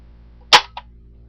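A modified Nerf blaster dry fires once with a sharp, loud snap, followed by a softer mechanical click, against an otherwise quiet background.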